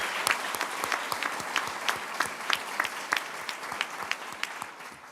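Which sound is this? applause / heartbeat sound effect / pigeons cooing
applause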